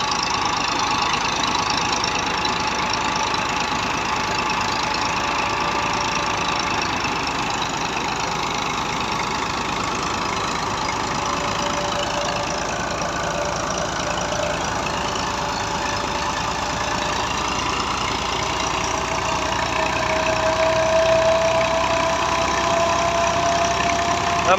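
An old Massey 240 tractor engine runs steadily at a constant mid-pitched drone, close and continuous, with a slight lift in intensity near the end.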